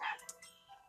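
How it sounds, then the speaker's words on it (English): Dogs bark faintly in the background of a home game-playing session, a few short yips and barks over about a second, distant and quiet, with no speech. "And those are my dogs. Barking."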